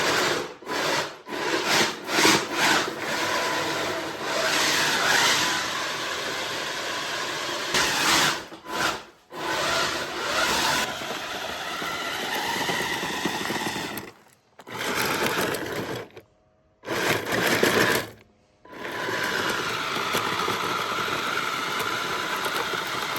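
A 3D printed planetary gearbox cart drives carrying a 35-pound winter tire, its motors giving a loud, close mechanical grinding whir that starts and stops in several runs separated by short silences.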